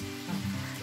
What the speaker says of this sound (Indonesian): Sekarang saya lagi goreng molen.